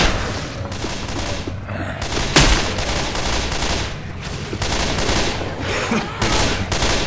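Game explosions and rapid gunfire from a pipe bomb going off in Left 4 Dead 2 during the Sacrifice campaign, dense repeated bursts with a heavier blast near the middle, loud throughout.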